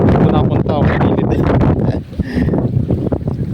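Strong wind buffets a small fishing boat at sea, a loud, steady roaring rumble with gusty surges against the microphone and water noise beneath, while a voice talks over it.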